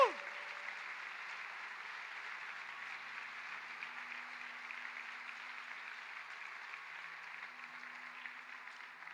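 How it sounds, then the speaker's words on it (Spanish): A church congregation at a Spanish-language worship service applauds in a steady, continuous wash of clapping that lasts the whole stretch at moderate distance, with a faint low hum underneath and no speech. "Dale un aplauso al Señor por eso."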